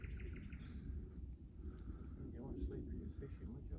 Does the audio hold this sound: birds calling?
yes